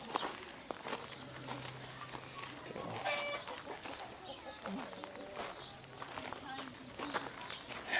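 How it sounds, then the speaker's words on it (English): Hens clucking at an animal park or zoo, a series of short clucks and calls close by over a steady outdoor background, with people talking now and then. "Hens."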